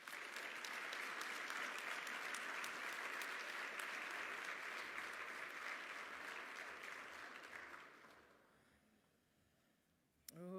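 An awards-night audience gives sustained, dense applause for honoured recipients, steady for about eight seconds before thinning and fading out.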